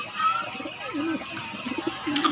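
Pigeons coo softly from a rooftop where birds are kept, a few low murmuring calls rising and falling over steady outdoor background noise, with faint chirps mixed in.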